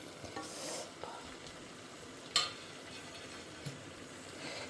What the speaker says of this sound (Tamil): இது நல்லா பச்சை வாசனை போகிற வரைக்கும் இதை வதக்கணும்